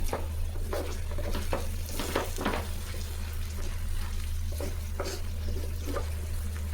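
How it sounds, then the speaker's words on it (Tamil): Coriander leaves sautéed and stirred in a pan for chutney, with a continuous soft sizzle and scraping stirs at irregular intervals, close up with no talking. "நல்லா கொத்தமல்லியெல்லாம் வதங்கிடுச்சு பாருங்கள்"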